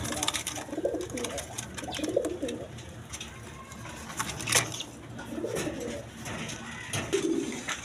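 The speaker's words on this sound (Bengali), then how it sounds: "দর্শক এখানে এক পেয়ার গররা কবুতর আছে রেড কালারের মধ্যে" Red Raj Gola pigeons, a pair of males, give soft, throaty coos in several spaced bursts, fairly close but low in level, over a light background hiss.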